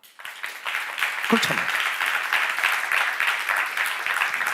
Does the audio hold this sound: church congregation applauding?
yes